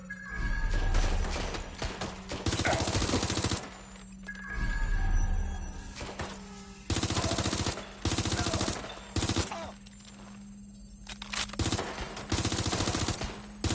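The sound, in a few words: gunfire in the video game Watch Dogs Legion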